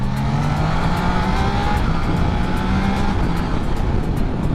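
A 600cc inline three-cylinder big bike being ridden, its engine giving a steady loud hum and drone under heavy wind rush, with the pitch shifting slightly as it holds speed.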